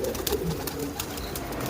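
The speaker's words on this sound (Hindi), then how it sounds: "ये हमने खोल दिए हैं सारे कबूतर अपने" Pigeons just let out of their coop coo softly and flutter, a low, busy murmur of several birds close by, with faint scattered wing flaps and no talk.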